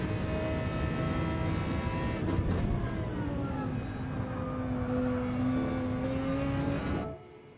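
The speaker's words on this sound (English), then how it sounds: "McLaren sounds amazing. So does the Audi." McLaren and Audi race car engines roaring at Watkins Glen in a racing game, a loud sustained tonal whine that climbs and dips with gear changes, close and continuous before cutting off abruptly at the end.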